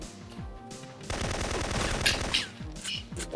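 Rapid automatic gunfire in the Syphon Filter video game as guards are shot, a dense sustained burst between a few single shots, with no voices.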